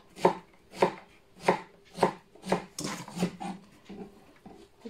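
A knife chops bell peppers on a board in steady, evenly spaced strokes, about eight crisp cuts close by, the rhythm loosening slightly toward the end.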